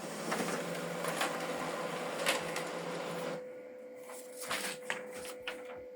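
A Brother DCP-L2620DW laser printer printing a test page, giving a steady whirring, rasping feed noise that stops partway, leaving a fainter hum with light clicks and rustles.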